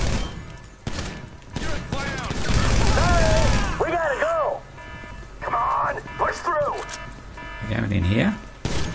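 Gunfire in the video game GTA 5 during a raid mission, sharp bursts and rapid volleys crackling near and loud through game sound, mixed with game voices and someone talking over it.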